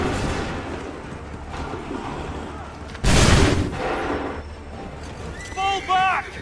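Musket volleys crack out in Assassin's Creed III, a loud broad blast midway through amid battlefield noise, with shouted commands and voices around it.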